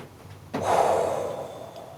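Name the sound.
heavy breathing during yoga pose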